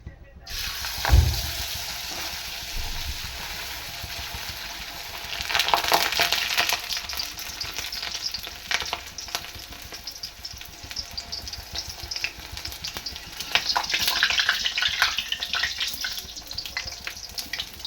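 Poha puris made with flattened rice sizzle in hot oil, a steady crackling fry that swells louder around the middle and again near the end, with a brief clatter early on.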